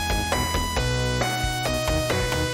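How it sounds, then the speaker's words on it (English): A song playing on its own, with thin, brittle drum hits beneath a prominent melody, the kit sounding boxed-in and glassy, no voices over it. "your drums sound like they're being played in like a glass box"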